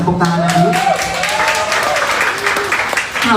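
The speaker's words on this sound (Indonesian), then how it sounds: "Minta tepuk tangannya dulu." An audience claps at an Indonesian entertainment event, a sustained round of applause carrying on throughout with some voices and crowd noise mixed in.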